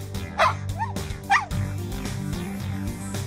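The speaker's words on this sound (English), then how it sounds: "The puppy." A puppy yips and barks in short, close bursts with whimpering rises, several sharp calls over about three seconds.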